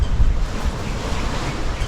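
Ocean waves surge and water rises over grass on a shore, a loud continuous rush of surf mixed with strong wind buffeting the microphone.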